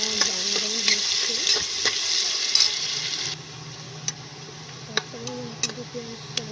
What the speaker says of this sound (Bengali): আমার পেঁয়াজটা ব্রাউন ব্রাউন হচ্ছে